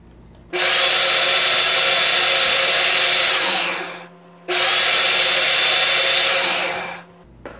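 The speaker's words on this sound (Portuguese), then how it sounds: "Vou fazer um polimento ali." Two long bursts of a high-pitched power tool polishing the firing pin of a PCP air rifle, each spinning up loudly, running about three seconds, then winding down, with a short pause between.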